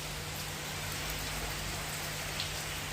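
Steady rain pours down in a constant soft hiss during the rainy season, heard alone and fairly faint with no voices.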